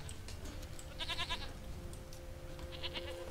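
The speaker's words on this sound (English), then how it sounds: "Bring the goat to Pell." Goat in The Witcher 3: Wild Hunt gives two short, faint bleats a second or so apart over low steady game ambience, with no talking.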